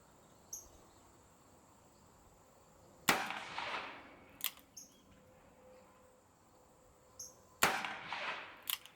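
Two loud, sharp gunshots from a Colt Trooper Mark III revolver firing .38 Special at an outdoor range, spaced several seconds apart, each with a short echoing tail over faint insect chirping.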